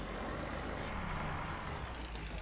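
Old smoking tractor in Farming Simulator 22 running with a steady, low rumbling engine drone, continuous and fairly close throughout with no talk.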